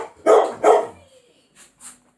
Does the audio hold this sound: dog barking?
yes